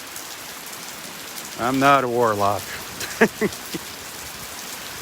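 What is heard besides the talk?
rain falling during a beach walk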